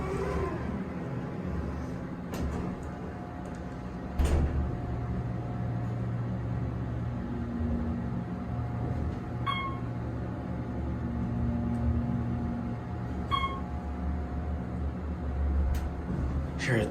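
An Otis Series 1 hydraulic elevator with a brass and mirrored cab at a Hilton Garden Inn rides between floors: a steady low hum and rumble with faint clicks and soft electronic chimes inside the cab, with no talk.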